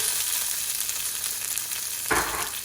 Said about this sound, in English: I'm going to fry this tomato.